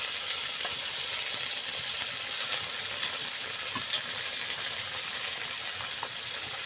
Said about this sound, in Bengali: এবার আমি নাড়াচাড়া করে কষাই নেব মশলাটা।